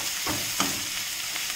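Finely chopped garlic frying in olive oil, a steady close sizzle with a couple of brief stirring bursts.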